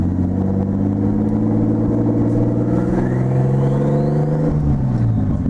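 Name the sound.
turbocharged car engine spooling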